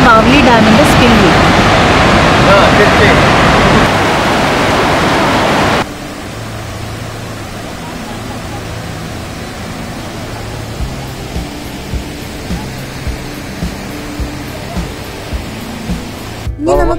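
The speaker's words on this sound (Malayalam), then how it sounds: "അതിൻ്റെ സ്പിൽവേ വഴി വെള്ളം ഓവർഫ്ലോ ആയിക്കൊണ്ട് പോയിരിക്കുന്ന കാഴ്ചയാണ് നമ്മളിപ്പോൾ ഈ കാണുന്നത്" Water pouring over the Bhavli Dam spillway near Nashik, a loud broadband rush for the first six seconds, then dropping to a softer steady flow with faint low thumps.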